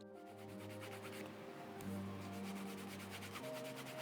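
Leather edges of a glasses case being burnished with gum tragacanth, making a steady close rubbing friction that continues without pause and without talk.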